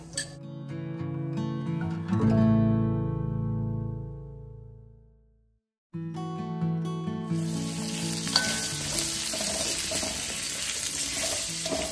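Vegetables fry in chili oil in a wok, giving a steady sizzle that fades out midway and then returns strong and bright, with no one speaking.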